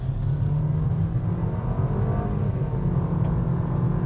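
Interior engine drone of a 2020 Nissan Versa SR, a front-wheel-drive car, accelerating with simulated gear shifts, a steady low rumble rising in pitch with a slight step partway through, no talk.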